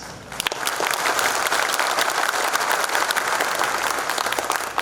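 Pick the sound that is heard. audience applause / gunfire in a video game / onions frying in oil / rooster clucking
audience applause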